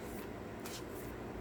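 A deck of oracle cards is shuffled by hand, making a soft, steady papery riffle and rustle, quiet and close, with no voices.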